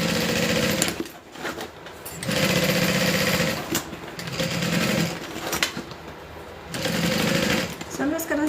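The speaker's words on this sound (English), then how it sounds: "Again, opening up those side seams, that's what I'm doing right now. Sewing them flat." Sewing machine stitching side seams flat on a fabric bag, close and loud in several separate runs broken by short pauses, with a person talking between and over the bursts.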